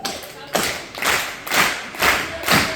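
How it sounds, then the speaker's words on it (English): Slow, evenly spaced hand claps in an old gospel style, about five sharp claps roughly half a second apart, close and clear with a voice talking alongside. "Just one like an old gospel clap like this"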